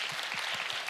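A church audience on a Friday night claps, a brief burst of steady applause heard at moderate level, with a slightly sharper clap standing out near the end.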